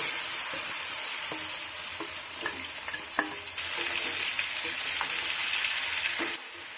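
Cut green mango pieces frying in smoking-hot oil for pickle, producing a loud, continuous close sizzle and crackle with occasional stirring clicks throughout.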